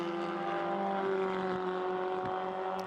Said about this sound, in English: Good to hear those Formula Ford engines still well and truly on song